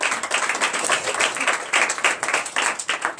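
A church congregation at a night service of deliverance and prophecy claps in acclaim of the Lord, a dense, lively patter of many hands that carries on steadily for a few seconds.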